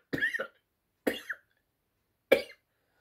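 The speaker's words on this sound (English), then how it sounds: "Sorry, I don't know why I keep coughing lately." Three separate coughs, close and fairly loud, each a short burst with a quick follow-up, spaced by silent pauses.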